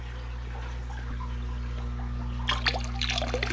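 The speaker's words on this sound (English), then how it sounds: "And then the water starts coming out." Water runs from a siphon tube into a fish tank, starting as a faint trickle over a steady low hum and then turning into a louder splashing flow near the end.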